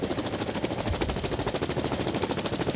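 Rapid machine-gun fire rattles continuously during a military mock battle exercise, a dense, rhythmic burst pattern at moderate loudness with no pauses.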